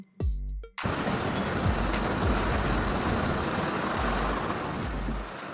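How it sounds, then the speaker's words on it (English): A converted fire and rescue bus used for evacuating people from fire zones: a steady, loud diesel engine rumble with passing road noise, after a brief burst of hissing at the start. "Fire and Rescue Bus."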